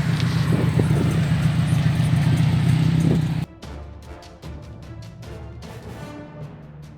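Subaru cars cruising in convoy on a highway, a loud rushing engine and road roar that cuts off abruptly partway through, leaving quieter scattered noise and faint ticking.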